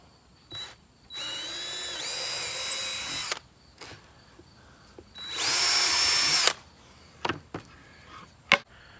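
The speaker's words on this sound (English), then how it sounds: "take the drill, since I'm not going to use this drawer anymore, and go straight down through it" A power drill bores straight down through an old RV drawer front in two sustained whining bursts, each a couple of seconds long, separated by quiet pauses and followed by a few handling knocks.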